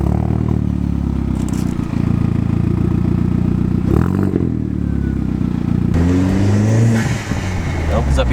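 A Volkswagen Golf Mk4 on stock shocks with H&R springs pulls away, its engine droning steadily and rising in pitch as it gathers speed, with clattery road noise and a voice partly heard over it.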